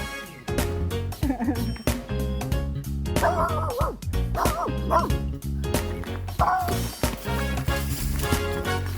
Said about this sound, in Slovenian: Pohodnike je spremljal tudi kuža Pufi, ki je imel nadzor nad vsem dogajanjem.